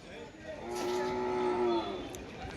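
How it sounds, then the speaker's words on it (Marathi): A single deep, drawn-out moo from a Khillar bull at the Narkhed cattle market, close and fairly loud, rising and fading over a couple of seconds. "पहिल्यांदाच नरकेच्या या बाजारामध्ये असा एकटा एक बैल तुम्हाला पाहायला मिळत आहे"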